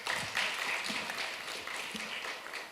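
Faint, scattered applause from an audience at a UK-Ghana business forum, soft and distant clapping lasting a few seconds.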